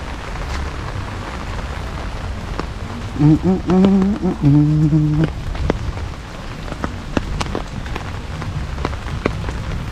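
Rain falls steadily on surfaces, a close continuous patter with sharp individual drop hits throughout, while someone briefly speaks partway through.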